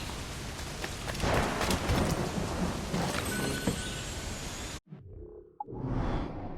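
Heavy rain pours steadily during a thunderstorm at sea in Assassin's Creed IV: Black Flag, a dense hiss with low rumbles, cutting out abruptly near the end before briefly resuming.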